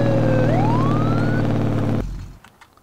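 A police car siren in Farming Simulator 2019 wails upward in pitch over a loud steady engine drone, then cuts off abruptly after two seconds, leaving a quiet rumble.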